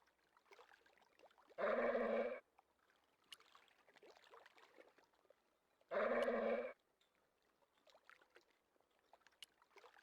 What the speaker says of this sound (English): It was a mean-looking guard dog.